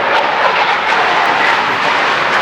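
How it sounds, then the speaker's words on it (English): F-18 fighter jets from a nearby military base flying past, heard as a loud, steady roaring jet drone with no voices. "It sounds like a fighter jet."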